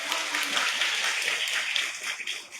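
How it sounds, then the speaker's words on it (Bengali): Audience clapping at a cake-cutting opening ceremony for a girls' tech fest, a dense, steady burst of many hands that fades slightly toward the end. "সবাই একটা জোরে হাততালি দিয়ে দাও"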